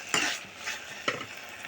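Spoon scrapes and stirs through soft, salted tomatoes in a hot pan, with two distinct strokes over a faint sizzle, close up.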